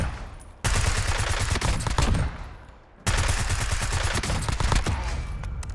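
A video game gun fires in two long, rapid automatic bursts with heavy, wild recoil, each loud stream of shots starting abruptly after a short quiet gap.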